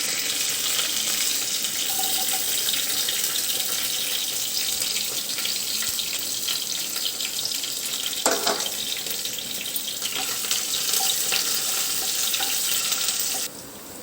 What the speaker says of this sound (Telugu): సన్న మంట మీద బాగా వేయనివ్వాలి.